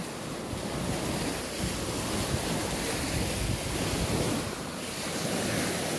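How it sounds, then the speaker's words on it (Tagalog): Strong sea waves surge and crash continuously in a provincial seaside setting, a loud broadband roar mixed with wind buffeting the microphone, swelling and easing in slow pulses without talk. "Grabe ang alon mo."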